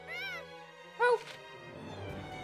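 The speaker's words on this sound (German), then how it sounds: "Die Katze." A cat meows twice in the video game Gravity Rush 2: a drawn-out, clear meow at the start, then a shorter, louder one a moment later, with quiet game ambience in between and no talk.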